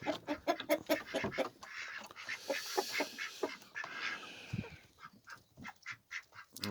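Chickens, a rooster and ducks in a poultry yard, a busy run of close clucks, squawks and honking calls that rises and falls with no talk.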